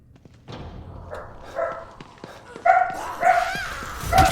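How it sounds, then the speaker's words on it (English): A dog barks and yips a few times at moderate distance, short sharp calls spaced out over the span, with a faint thump and soft background noise. "I need to go see why my dog's barking."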